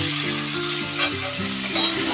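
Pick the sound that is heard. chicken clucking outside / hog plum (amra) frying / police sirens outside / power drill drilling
hog plum (amra) frying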